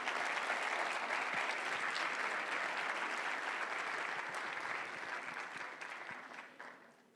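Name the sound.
audience applause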